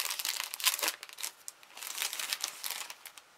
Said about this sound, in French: là je colle un sticker